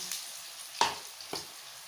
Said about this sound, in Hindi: यहाँ पे देखें ये फ्राई हो रहे हैं